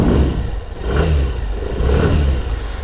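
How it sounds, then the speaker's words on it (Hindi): A Suzuki Avenis 125 scooter idles with its engine running, giving a steady low exhaust hum that swells gently with each light blip of the throttle, close and continuous with no talk. "तो एग्जॉस्ट नोट आप सुन सकते हो कुछ ऐसी है"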